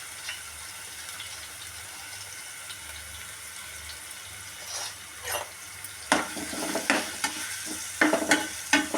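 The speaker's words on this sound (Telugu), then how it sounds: "ఆనియన్స్ అంతా బాగా ఆయిల్లో మిక్స్ అయ్యేటట్లు కలుపుకొని గోల్డెన్ బ్రౌన్ కలర్లో వచ్చే విధంగా కలుపుకోవాలండి" Sliced onions frying in oil with green chillies for a hotel-style drumstick curry, a steady sizzle throughout joined in the second half by repeated scraping and clattering stirs growing louder.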